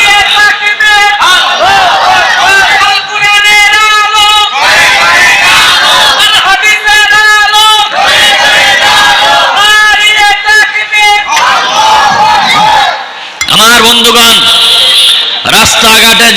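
A large crowd at an outdoor Islamic religious gathering (mahfil) chants the takbir in loud unison response, voices roaring repeatedly in waves with only a brief pause.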